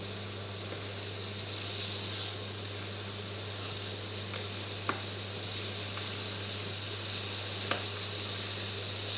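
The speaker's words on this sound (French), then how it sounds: "je dispose mes pommes qu'on va faire dorer" Apples brown in a pan with a soft, steady sizzle, fairly quiet and continuous under a low background hum, with occasional small pops and scrapes and no talking.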